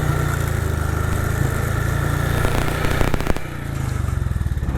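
A 1959 BSA motorcycle engine idles fast on a high tickover in freezing cold, a loud close steady throb with a rapid even beat that wavers briefly and dips before settling back to its pulsing idle.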